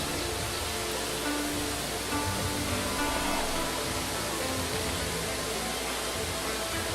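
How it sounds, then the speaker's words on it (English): Waterfall cascading downwards in the video game Tengami, a steady, dense broadband rush of falling water, loud and unbroken throughout. "A pristine waterfall cascading downwards, crimson leaves."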